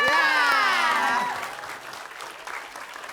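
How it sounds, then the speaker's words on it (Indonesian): Audience applause for a group on a TV comedy show, starting under a bright descending musical sting and then fading into a quieter scattering of claps. "tepuk tangan buat Maca"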